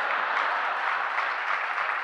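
An audience at a Hindi comic poetry recital breaks into sustained applause, a thick, uniform wash of clapping from a large crowd that holds steady throughout without any speech.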